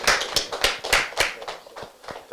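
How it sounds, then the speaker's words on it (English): A small group claps in a loose, uneven rhythm for a man being welcomed to the microphone at a live-streamed academy event. About a dozen distinct close claps are heard, with no voices. "Please, a round of applause for him."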